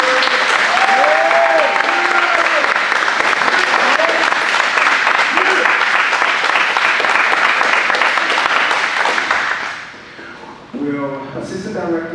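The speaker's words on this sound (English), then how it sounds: "So please give them a round of applause." A graduation audience applauds staff in a long, loud, dense wash of clapping that fades near the end, with voices heard briefly afterward.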